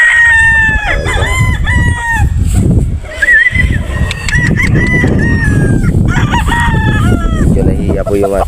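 A Boston Roundhead rooster on a Batangas game farm crows repeatedly and loudly up close, other fowl clucking and calling around it, with someone talking in the background.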